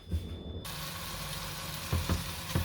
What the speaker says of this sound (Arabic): هكذا نحطوهم يتقلاو